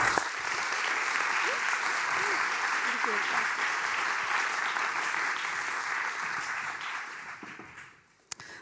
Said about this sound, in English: I want a warm applause for them and also a warm applause for the maker of the documentary